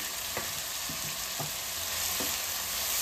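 Grated carrots fry in a pan for bread masala with a steady, close sizzle, broken by a few soft scraping stirs of a spatula and no talking.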